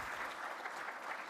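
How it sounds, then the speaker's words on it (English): At a tech conference session, an audience gives brief, faint applause: a dense, even wash of clapping lasting just over a second, heard from a distance. "round of applause, please, for Braden."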